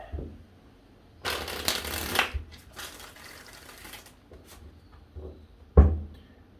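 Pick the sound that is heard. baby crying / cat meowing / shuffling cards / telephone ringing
shuffling cards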